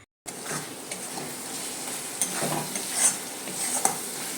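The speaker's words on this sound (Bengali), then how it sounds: "মশলাটিকে ভালোভাবে কষিয়ে নেওয়ার জন্য লো আঁচে রেখে খুন্তির সাহায্যে ভালো করে নাড়াচাড়া করে নিতে হবে।" A spice masala for chicken kosa being stirred with a metal spatula over low heat, a soft continuous sizzle with intermittent scrapes and light clinks against the pan, no voices.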